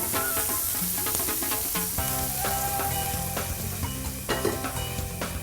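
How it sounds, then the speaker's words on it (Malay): Onions sautéing in a pan, with a continuous moderate sizzle and occasional stirring and scraping clinks. "Kita tumiskan bawang besar"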